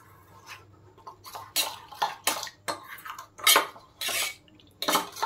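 A spoon scrapes and clinks against a bowl in quick irregular strokes as banana flower cutlet batter is stirred with water and cornflour, close and fairly faint, without talk.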